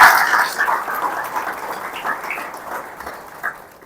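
Applause from a lecture audience at a hotel management college in Pune for a madam and the staff, a loud burst of clapping at the start that thins into a fading, scattered patter.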